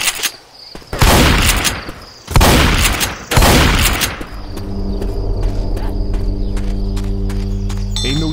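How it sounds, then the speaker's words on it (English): Heavy grenade launcher explosions in the Left 4 Dead 2 video game with a Plants vs Zombies mod, three loud booming blasts about a second apart, then a steady droning hum with faint rapid gunfire continuing. "Got a grenade launcher!"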